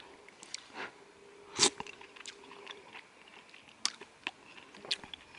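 Someone chews a bite of chunky meat stew while car camping in the woods, with soft close mouth sounds, one sharp crunch and a few scattered wet clicks, no talking.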